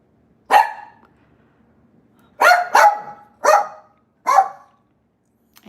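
A dog barks loudly and close by, first one sharp bark, then after a pause a quick run of four barks, in an otherwise quiet room.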